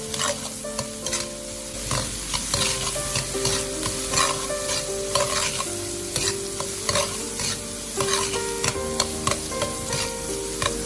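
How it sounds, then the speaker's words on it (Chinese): Cucumber is stir-fried fast in a wok over high heat after aromatics, giving a steady loud sizzle with continuous scraping and clattering of the spatula, with no talking. "再下入黄瓜，开大火快速的翻炒，将黄瓜炒至断生。"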